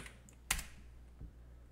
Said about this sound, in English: let's branch it by typing git branch dash capital M main.